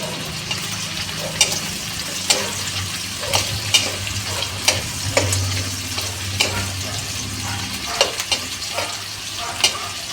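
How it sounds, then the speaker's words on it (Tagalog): Garlic and green chili frying in a pan for pancit bihon, a continuous sizzle broken by repeated scrapes and knocks of a stirring utensil at irregular intervals, close and fairly loud. "nilagay ko na po yung bawang and siling green"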